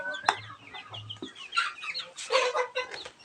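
Chickens cluck and call close by while being fed a mix heavy in coconut pulp, with short bursts of clucking and some rustling spread across a few seconds.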